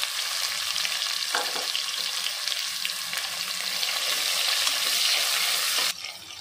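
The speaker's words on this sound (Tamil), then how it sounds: "நல்லா வெங்காயம் கண்ணாடி பதத்துக்கு வதக்கிக்கலாம்" Sliced big onions sauté in a pan with green chilli, dried red chilli and curry leaves for peerkangai kadaiyal, a steady close sizzle with occasional stirring knocks that drops off sharply near the end.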